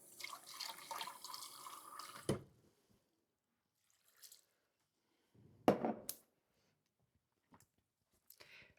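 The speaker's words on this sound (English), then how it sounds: "And then add a few cups of water." Water poured into a pot of warming spices, a steady splashing run for about two seconds, followed by scattered faint drips and clinks. A brief louder splash comes later.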